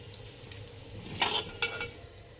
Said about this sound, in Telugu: మనం మిరపకాయలు వేసుకుని వేపుకుందాం.